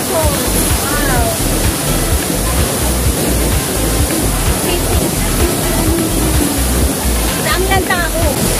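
Tsuen Wan waterfall on a crowded holiday, a loud steady roar of falling water filling the scene with people chattering faintly over it.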